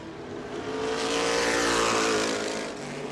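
A race car engine roars past during a lap at the New Smyrna race, a single drone that rises, peaks at close range, then fades away with no talk over it.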